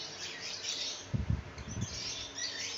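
A colony of male songbirds chirps and tweets with busy overlapping calls, under a brief burst of louder low fluttering sounds midway through.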